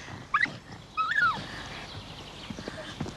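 A dog whimpers close by in two short, high, wavering whines, with quieter rustling noise in the background.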